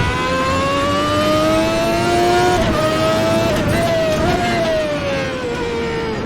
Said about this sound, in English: you step on the throttle in 4th gear, it's still 700 horsepower.